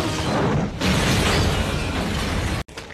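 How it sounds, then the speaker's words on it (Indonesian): A car blows up in a film scene, set off by burning petrol: a loud, sustained roaring blast with a brief dip early on, then a sudden cut to near silence before a short tail. "mobilnya pun meledak yang membuat Alex mental dan pingsan"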